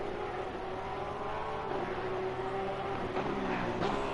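A Porsche race car engine in Assetto Corsa Competizione hums at a steady, moderately distant pitch, rising slightly with a few faint crackles near the end, fairly quiet throughout.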